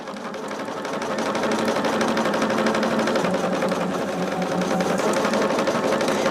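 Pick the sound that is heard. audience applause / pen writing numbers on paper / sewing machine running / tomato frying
sewing machine running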